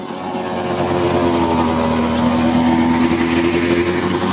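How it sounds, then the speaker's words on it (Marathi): A tractor working a Dig Shero rotavator through a waterlogged field with water flowing, its engine droning loud and steady up close, with a slight rise in pitch midway. "शेतातून पाणी वाहत आहे तरी डिग शेरो कशा प्रकारे काम करतोय बघा"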